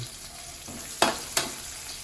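Pork belly with tomatoes frying in a pan for pork binagoongan, a low steady sizzle with two sharp utensil clacks against the pan partway through.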